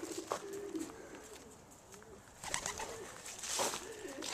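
Breeding pigeon cocks in a loft in Chico, California, give soft, low, rolling coos, several overlapping calls close by with faint rustling and scattered higher chirps, no speech.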